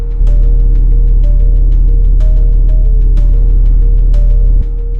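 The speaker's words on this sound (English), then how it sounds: "A thrumming vibration that seems to press in from all sides." A low, resonant thrumming hum that swells evenly and fills the space, with a steady deep drone under faint rhythmic ticking, loud and continuous throughout.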